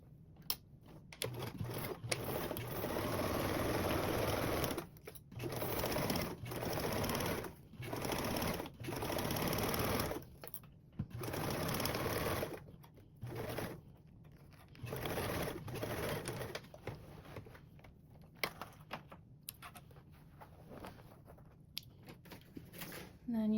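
Sewing machine stitching a duffle bag panel to its base at a 3/8 seam allowance, running in repeated bursts of steady whirring with brief pauses between, close and clear, with occasional talk.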